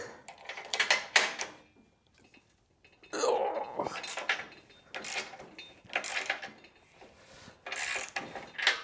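Quinn 3/8-inch digital torque wrench ratcheting as a bolt is loosened, giving several bursts of quick metallic clicking close by with short pauses between them.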